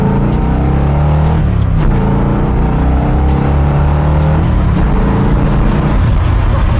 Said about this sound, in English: Let's let this motor eat.